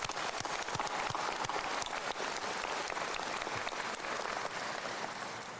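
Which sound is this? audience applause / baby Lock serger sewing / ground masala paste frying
audience applause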